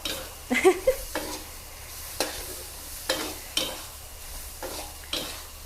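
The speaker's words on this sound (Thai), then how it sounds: "ผัดให้ไข่สุกนะคะ ประมาณนี้ค่ะคั่วสองสามทีนะคะ" Eggs stir-fried in a hot pan with king oyster mushrooms and oyster sauce sizzle steadily as a utensil scrapes and tosses them in a series of close, rhythmic strokes, with no voices.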